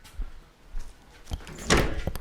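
Someone rattles and tugs at a locked door on a rainy day, a few dull handle clunks and thumps followed by a louder rattling burst near the end, close by with no talk.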